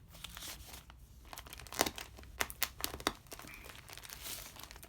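Crinkling and tearing of a well-packaged mail pouch as it is opened, with a quick run of sharp crunchy rips and rustles heard up close in a quiet room.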